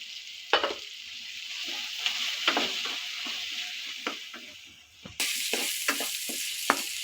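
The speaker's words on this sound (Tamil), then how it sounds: "இப்போ பொரியல்லையை போட்டு நல்லா வதக்குவோம்" Onion chutney ingredients sautéing in a pan with salt, a steady close sizzle broken by repeated sharp scrapes of a spatula being stirred through, growing louder partway through.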